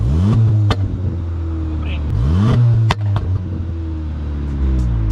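Revving exhaust of a 2019 VW Golf 7.5 GTI Performance with the exhaust flap closed: two strong rising revs with a deep steady rumble between them, loud and close.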